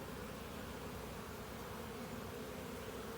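Worker bees hum steadily inside a beehive, a dense, even drone that holds at a constant level from start to finish with no voices over it.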